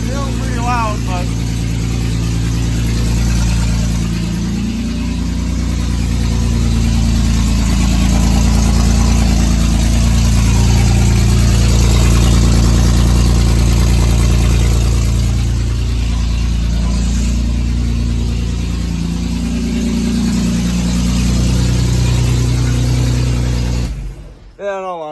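Loud, continuous idle from a 1984 S-10 pickup on a new exhaust, droning steadily at close range with slight swells in level before cutting off abruptly at the end.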